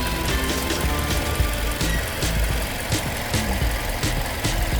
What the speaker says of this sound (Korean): 엔진에 부조 현상이 좀 있는 것 같은데요